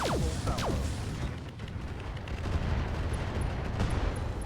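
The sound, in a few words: Gauss Rifle HA-20s firing in RogueTech BattleTech video game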